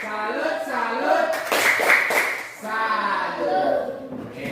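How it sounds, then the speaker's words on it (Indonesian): A school class does the 'tepuk salut' clapping routine, a short patterned burst of hand claps among children's chanting voices, moderately close in a classroom. "Tepuk salut."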